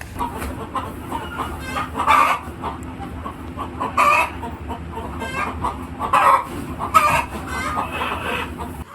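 Farm chickens cluck and squawk in a coop, with several louder bursts and a rooster-like call standing out over a continuous low murmur of the flock.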